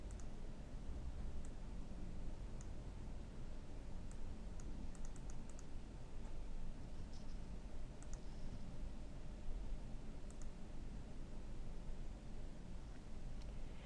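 Keys clatter faintly on a computer keyboard in an office, irregular soft clicks spread across a low hiss with no talking.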